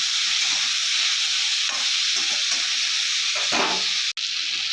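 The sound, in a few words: okra frying in oil with salt and turmeric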